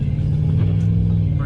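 A car on a rainy road passes close by, a loud steady low rumble of engine and road noise filling the whole moment, with a brief hiss of spray rising at the end.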